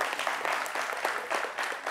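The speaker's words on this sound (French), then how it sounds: "Est-ce qu'on peut les applaudir, s'il vous plaît?" Studio audience applauding on a French morning TV show, a steady wash of clapping that swells and ebbs in waves throughout, fairly close and filling the room.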